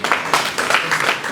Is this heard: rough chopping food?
no